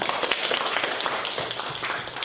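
Classroom applause from students during a teacher training session, a short dense burst of clapping that carries evenly throughout.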